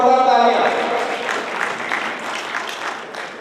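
Audience applause at a Hindi-language talent honour ceremony in Bikaner, with steady clapping that starts loud and gradually thins out. A voice over the opening second rises above the claps, and the noise fades slightly toward the end.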